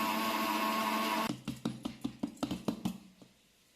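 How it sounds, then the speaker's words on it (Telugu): A kitchen mixer grinder pulverises roasted black gram into fine powder, a loud whirring roar that cuts off abruptly and is followed by a series of sharp rattling knocks from the jar. "ఒక మిక్సీ జార్లో వేసుకుని బాగా మెత్తని పౌడర్ లాగా చేసుకోవాలి"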